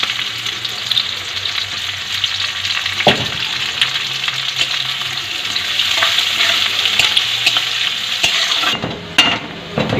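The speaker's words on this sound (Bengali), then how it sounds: "পেঁয়াজটা ভাজা ভাজা হয়ে গেছে এবারে দেবো আদা রসুন" Onions fry in hot oil in a pan and are stirred with a spatula, giving a loud continuous sizzle. Scraping strokes and a sharp clack near the end stand out, with no talking.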